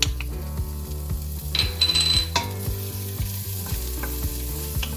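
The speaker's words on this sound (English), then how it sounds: "You want to hear that sizzle?" Garlic sizzling and crackling in hot oil with metallic stirring clinks, a rhythmic scraping pattern over the steady fry; no one speaks.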